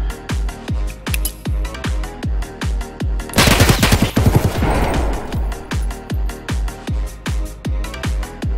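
Gunfire in the video game Escape From Tarkov, with a double-barrel shotgun present, sounds as steady, evenly spaced sharp shots, loud and close, with a denser burst of overlapping blasts in the middle.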